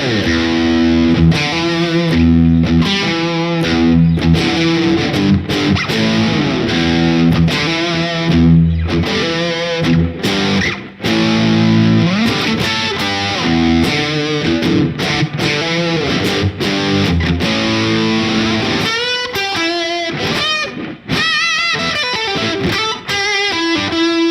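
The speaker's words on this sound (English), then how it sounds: "That combination between the distortion pedal and the drive on the amp" Electric guitar driven through a Boss DS-2 Turbo Distortion pedal stacked with amp drive, playing thick sustained chords and riffs with heavy compression, loud and continuous with brief gaps near the end.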